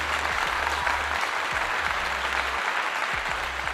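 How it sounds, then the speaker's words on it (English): Audience claps in a steady, dense burst of applause that carries throughout, with low rhythmic thumps and faint crowd noise beneath it. "Like Deion said, you're supposed to clap for that."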